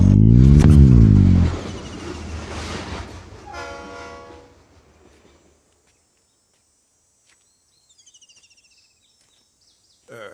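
A train rushes past close beside the railway line, loud at first with a blaring horn, then rumbles and clatters away and fades to near silence.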